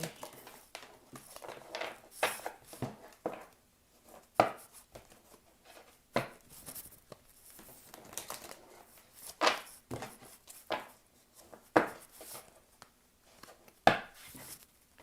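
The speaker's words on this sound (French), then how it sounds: "on va juste bien mélanger les cartes pour s'assurer" Tarot cards being shuffled by hand at close range, a quiet series of irregular soft riffles and taps with brief pauses between bursts.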